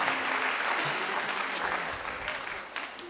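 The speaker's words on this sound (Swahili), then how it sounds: "Wamepiga makofi wachache" A church audience gives a brief round of applause, a thin patter of a few hands clapping at once, moderately close, fading slightly toward the end.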